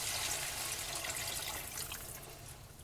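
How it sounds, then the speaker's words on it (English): Beef broth pouring into a pot in a home kitchen, a continuous close splashing and gurgling stream of liquid heard alone for a few seconds. "And then I'm adding the rest of the beef broth"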